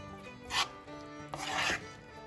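Black-eyed peas being stirred in bacon grease in a pan, two distinct scraping, rasping strokes close up over a faint background hum, no talk.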